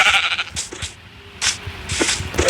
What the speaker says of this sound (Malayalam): നമുക്ക് ഒരു ബ്രൗൺ ആട്, ഇതിനെയും കൂടെ നമുക്ക് കൊല്ലണം.